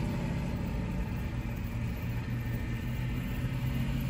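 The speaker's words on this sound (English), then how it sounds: "So this is the traffic on Big Bear Boulevard." Car traffic on Big Bear Boulevard during a snowstorm, a steady low engine rumble and road noise from nearby vehicles running unbroken throughout, with no talking.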